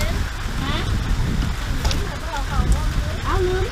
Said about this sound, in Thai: ฝนตก บรรยากาศ